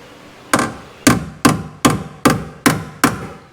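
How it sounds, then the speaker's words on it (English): Seven sharp hammer taps seat a trail rail part on a 2025 Jeep Gladiator, ringing out in a steady rhythm, each a loud, close metallic knock with a short decay, no voices. "I'm going to tap it a couple of times with a hammer just to make sure it's seated properly."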